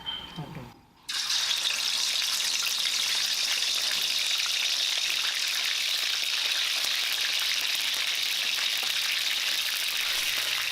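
Chicken wings drop into hot oil in a pan and set off a loud, dense sizzle that starts abruptly after a brief quieter moment and then holds steady and close.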